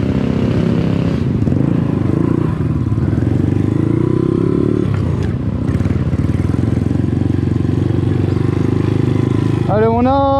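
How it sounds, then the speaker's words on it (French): Motorcycles riding toward town, their engines droning loudly and steadily throughout with a rising whine near the end, a close, continuous roar with wind noise. "Allez, on part en ville avec les motos."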